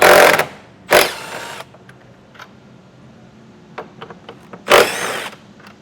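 A power tool removing 10mm bolts from the trim of a 2023 Jeep whirs in three loud close bursts, separated by quieter clicks and taps of handling parts.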